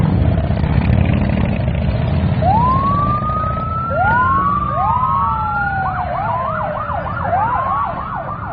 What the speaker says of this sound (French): ici, on commence par les véhicules de la police de Saint-Cloud et de Kissimmee, qui sont des véhicules d'intervention d'urgence